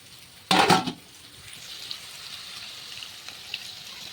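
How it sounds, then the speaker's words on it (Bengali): Sliced potatoes fry in hot oil in a pan, with a brief louder burst of sizzling and stirring near the start before settling into a faint steady hiss with occasional small pops. "আলুটাকে খুব সুন্দরভাবে ভেজে নিয়েছি"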